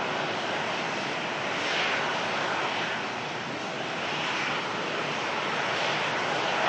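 A noisy jet airliner passes close by at a Melbourne airport, a loud broadband engine roar that swells and holds steady throughout, with no voices over it.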